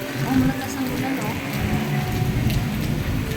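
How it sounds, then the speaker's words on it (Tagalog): Heavy rain pours down steadily and loudly, close by, in a broad unbroken hiss of drops on nearby surfaces, with voices talking underneath. "malakas ang ulan"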